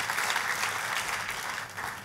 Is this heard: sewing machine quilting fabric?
no